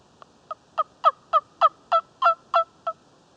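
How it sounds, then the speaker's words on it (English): A wild turkey gobbles in a loud, clear sequence of about ten rapid rattling notes that swell and then fade. The bird is fairly close, and the call stands alone over a quiet outdoor background. "He was gobbling pretty hard."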